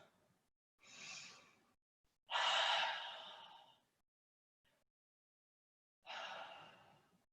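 Slow, deep breaths during yoga practice, heard close and alone in a quiet room: three long airy exhales or sighs separated by silences, the middle one loudest.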